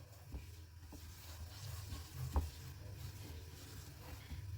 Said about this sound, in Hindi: सूजी को हम हल्का सा भून लेंगे।